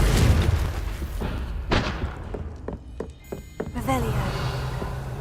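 A Confringo blasting spell in Hogwarts Legacy on PS5 Pro: a heavy booming burst up front, followed by several sharp thuds and cracks of debris and impacts spread across the following seconds.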